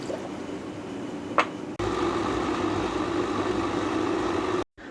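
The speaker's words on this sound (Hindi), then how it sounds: "अब हम प्याज, अदरक, लहसुन और सब्ज़ मिर्च को ग्राइंड कर लेंगे।" Kitchen grinder blending onion, ginger, garlic and green chili with half a glass of water into a paste: a steady whirring drone runs without a break, then stops abruptly near the end.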